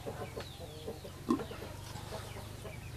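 A chicken clucks faintly in short, scattered calls near a rural sleeping spot for chickens, with a low steady hum underneath and one slightly louder cluck.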